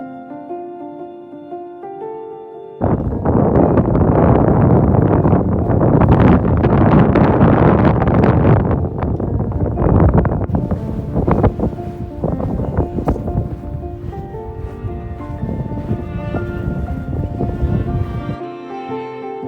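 Strong wind on a sandy desert stretch of the Pacific Crest Trail among Joshua trees, roaring loudly against the microphone in buffeting gusts for about fifteen seconds before dropping away, with faint tonal sounds before and after.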